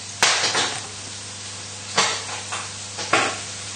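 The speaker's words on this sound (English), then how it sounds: "If your livers are popping away, like you can probably hear mine in the background" Soft frying sizzle of chicken livers popping in a pan, with three sharp taps or stirring clinks spaced about a second apart, close by and without voices.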